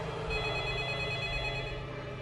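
A telephone rings with a steady buzzing electronic tone that holds continuously, fairly loud and alone, with a low hum underneath.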